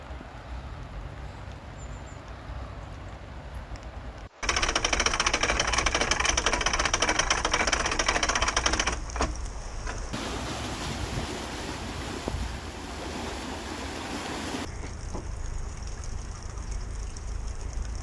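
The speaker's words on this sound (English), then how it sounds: "the steam engine!" A steady, loud mechanical chugging and hiss of a steam engine on a canal boat, continuous with wind, rain and water noise, changing tone partway through.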